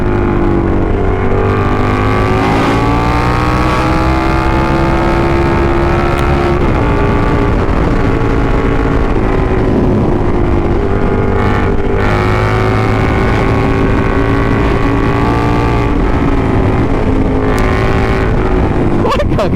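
Superbike motorcycle engines rev loudly during a group ride, with a constant close engine drone rising and falling in pitch through gear changes, while people talk over it.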